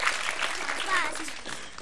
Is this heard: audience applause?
yes